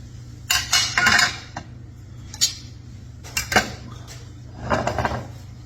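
Cutlery working through a big slice of Easter dinner on a plate, with scattered clinks and scrapes of metal on dishware in a few short bursts, close and fairly quiet between them.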